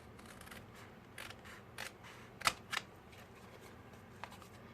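Scissors cut through a cardboard macaroni box, making a few faint, sparse snips with one sharper crisp cut in the middle, all quiet and close, with no talking.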